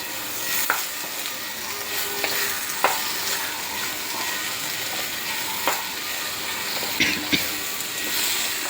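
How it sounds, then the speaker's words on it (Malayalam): Spoon stirring a vegetable curry with eggplant in a pan, an oily sizzle throughout with scattered scraping and clinking knocks, close and fairly loud. "കത്തിരിക്ക ഇഞ്ചോളം ഇട്ട് അതും കൂടി നന്നായിട്ട് നമുക്ക് ഇളക്കി"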